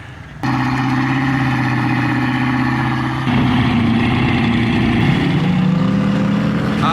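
An off-road mud buggy at an Idaho mud and crawl ranch starts up and runs with a loud, steady droning engine note that rises slightly in pitch partway through, close and continuous with no talk.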